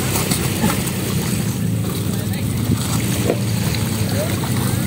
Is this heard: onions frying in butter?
no